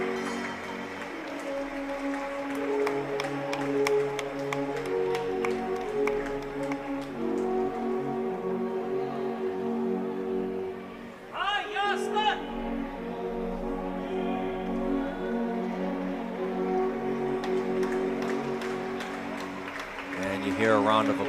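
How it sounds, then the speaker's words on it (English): A ball hockey championship opening ceremony crowd claps in the rink as referees leave, a steady spattering of applause beneath prominent talk and music-like tones, with brief louder bursts. "Hear a round of applause as the referees exit the rink"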